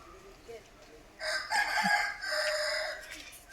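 A rooster crows nearby, a loud drawn-out call with a second crow following, over quiet outdoor background noise.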